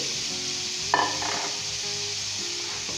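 Chopped tomatoes go into a hot pan of oil for Nigerian-style jollof rice and are stirred, giving a steady close sizzle with a brief louder splash of frying as they land.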